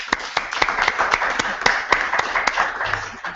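Workshop participants clapping for themselves, a small group giving distinct, rhythmic individual claps close to the microphone, fairly loud and unaccompanied by talk.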